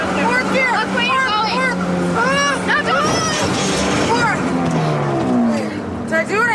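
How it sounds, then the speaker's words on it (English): Car engine straining hard in low gear as a learner driver pushes toward 70 km/h, a sustained revving drone under loud, frantic talk and shouting from people inside. "she's almost melting the engine trying to get up to 70k an hour"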